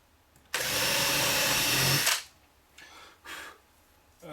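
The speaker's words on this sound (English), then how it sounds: "Then what I tend to do is drill some holes." A power drill bores holes in a model railway baseboard, giving one loud, close burst of about a second and a half, followed by quieter handling scrapes and rustles.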